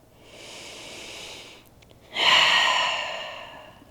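Two slow breaths during a yoga forward fold: a soft, airy inhale followed after a brief pause by a stronger, fuller exhale, close and alone.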